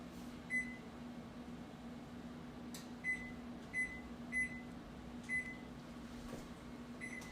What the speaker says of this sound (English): I just have to set the timer again